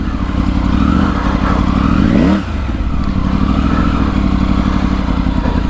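Triumph Tiger 900 Rally motorcycle riding through deep sand in the Thar Desert, engine loud and close, revving hard with a sharp rising surge and a sudden throttle cut midway, then a steady churning drone.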